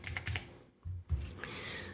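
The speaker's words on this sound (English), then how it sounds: "we type in pepperoni here" A computer keyboard clicks in a quick burst of keystrokes, then a short pause and a few more taps, close and fairly quiet, with no voices.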